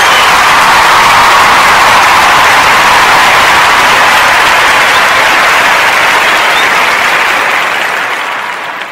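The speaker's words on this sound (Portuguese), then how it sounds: "esta merece, sem dúvida alguma, uma salva de palmas" Loud, dense applause from a large crowd fills the air, holding steady before tapering off toward the end.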